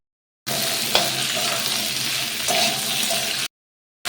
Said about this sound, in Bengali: তো আলুগুলো আমি এখন এটার সাথে ভেজে নেবো